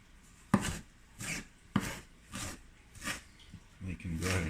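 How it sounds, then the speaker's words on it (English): Chickweed being chopped with a knife on a cutting board for pesto: a handful of sharp, evenly spaced knife strikes about half a second apart, close and fairly quiet, with a faster flurry of cuts at the end. "I just load it up on my cutting board and I start chopping away."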